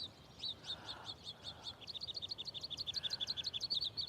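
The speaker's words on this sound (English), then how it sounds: "Hear the birds?" Small birds chirp in quick, repeated high twitters, fairly faint and steady, growing a bit denser toward the end.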